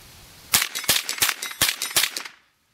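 Five .22LR rounds fired from an AR15 fitted with a CMMG conversion kit, sharp distinct cracks in a quick, slightly uneven string, loud and close with no talk.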